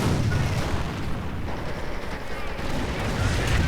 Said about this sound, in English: he's calling in artillery on Kleinburger's man